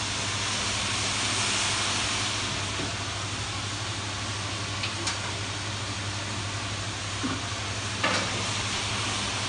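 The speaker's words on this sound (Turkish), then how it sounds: "Güzelce böyle yağsız tavada sürekli karıştırıyoruz." Onions caramelizing in a dry, oil-free pan for onion soup are stirred steadily, giving a continuous close, even scraping rustle with a few brief clicks of the utensil against the pan and a low steady hum beneath.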